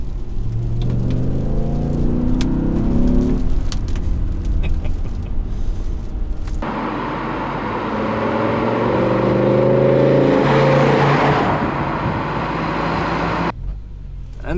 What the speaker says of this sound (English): it's not only the engine firing on all 10 cylinders now